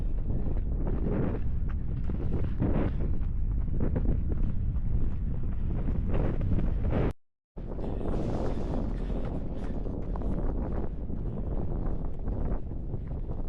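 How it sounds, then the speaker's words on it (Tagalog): Strong wind roaring over a microphone during an outdoor run, a loud continuous rumbling buffet that cuts out for a moment and then resumes. "Too much wind, but still running."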